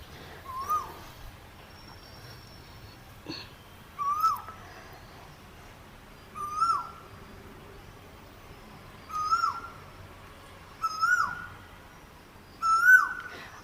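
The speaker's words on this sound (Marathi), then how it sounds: "अगदी पहाटेपासून कोकिळेचं कुहू कुहू चाललेलं आहे बघा" An Asian koel calls from a mango tree in a small garden at early morning, six clear rising whistled notes spaced about two seconds apart over quiet background.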